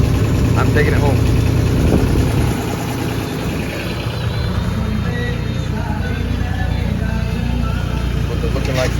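An engine-driven welding machine runs steadily in fourth gear with a low, continuous drone, loud and close throughout, a brief lift in intensity near the start and a slight dip around the middle.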